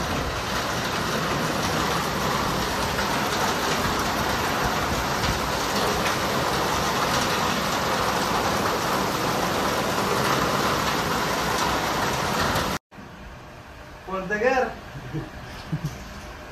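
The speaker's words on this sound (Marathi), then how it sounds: "फुल पाऊस" Heavy rain pours down steadily as a dense, loud hiss for most of the stretch, then cuts off abruptly to a quieter scene where a voice is briefly heard.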